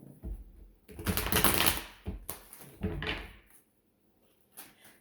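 Tarot cards shuffled and pulled from the deck, heard as several close, loud riffling bursts of papery slapping and rustling, separated by brief pauses, and a softer card snap near the end.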